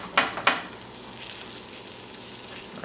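Omelette ingredients frying in a non-stick pan, a steady close sizzle with two sharp stirring scrapes near the start and no talking.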